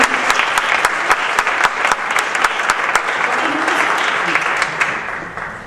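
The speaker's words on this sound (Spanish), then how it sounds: "Recibamos a Macarena un gran aplauso de ánimo." An audience at an education conference panel applauds a speaker, with dense, steady clapping close by that continues for several seconds and then begins to thin out toward the end.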